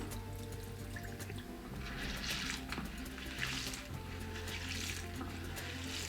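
Peanuts swished and rinsed in water, with soft sloshing, drips and gentle splashes close by, steady throughout.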